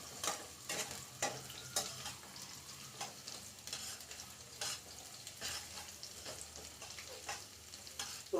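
Garlic sizzles softly in a pan while a utensil stirs it with repeated scraping strokes, quiet and close.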